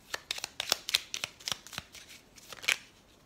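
Playing cards being shuffled and laid out for a reading: a quick run of crisp, close flicks and slaps in an uneven rhythm, with no talking.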